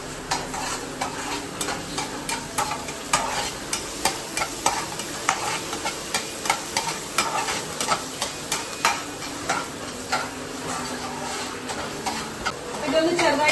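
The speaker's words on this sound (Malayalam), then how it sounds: "ഗ്രീൻ ചില്ലി, പിന്നെ 1 മിനിറ്റ് ഇതൊന്ന് വാട്ടിക്കോട്ടെ." Green chillies sauté in a pan with a steady oily sizzle, punctuated by frequent sharp clicks and scrapes of a spoon stirring against the metal.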